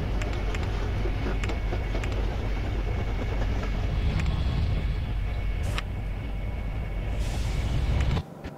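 A train running in the Chris Sawyer's Locomotion video game rumbles steadily with a continuous rolling rail sound, loud and constant, cutting off abruptly near the end.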